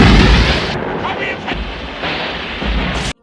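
An old ship explodes in loud, rumbling booms and roaring blasts that surge and fade, with a voice narrating over them, before the sound cuts off abruptly.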